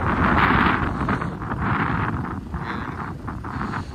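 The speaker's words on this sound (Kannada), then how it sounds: "ಅಷ್ಟು ಗಾಳಿ ಇದೆ ಅಂತ ಇಲ್ಲಿ" Strong wind roars and buffets the microphone continuously at an outdoor campsite, surging in gusts with a heavy, rumbling rush throughout.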